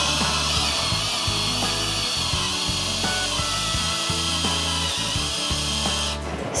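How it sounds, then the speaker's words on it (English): A power drill whirs and bites all the way through wood in repeated bursts, loud and close, its pitch dipping as the bit loads up. "We're gonna drill all the way through"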